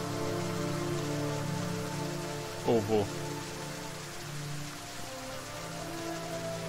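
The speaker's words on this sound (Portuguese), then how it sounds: "Eita, começou a chover do nada." Steady rain falls throughout a Fragmented video game scene, a broad constant hiss layered over droning background music, with a short spoken question breaking in near the middle.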